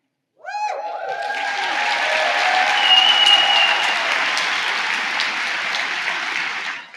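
A large audience at a university social work commencement breaks into sustained applause, starting abruptly after a brief rising tone, swelling into dense steady clapping that holds for several seconds and then cuts off.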